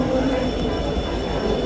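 A freight train rolls past beside a road in Mumbai, a steady broad rumble with a faint high whine throughout, loud and continuous with no clear breaks.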